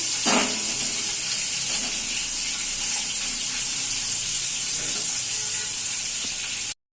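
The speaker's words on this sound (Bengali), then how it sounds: "মাছের মাথাটা আমি খুব ভালো করে ভাজবো, বেশ কড়া কড়া করে" A fish head crisp-frying in hot oil gives a steady, loud, bright sizzle that runs unbroken throughout, with a brief louder spatter at the start and faint stirring underneath.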